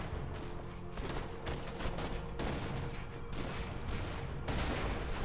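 Distant, fairly faint gunfire in the video game Borderlands 2, a continuous clatter of shots and bursts blending into a busy battle backdrop.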